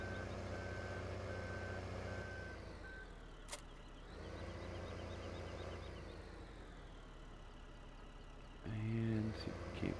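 Reversing beeps sound from a truck backing into a shed in Farming Simulator 2015, a steady repeating tone over a low engine drone, followed by a brief louder mechanical burst near the end.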